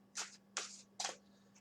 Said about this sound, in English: So I may shuffle it more than 6, but the reason for that being the fact that this deck is huge and it's unwieldy